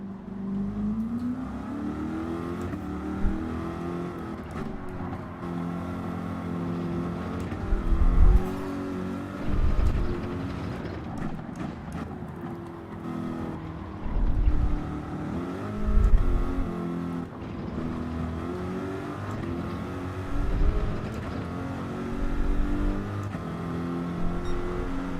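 Race car engine in Gran Turismo 7 revving and shifting early through the gears, a loud continuous drone that rises and falls, with repeated surges in pitch and throttle blips spread across the lap and no voices.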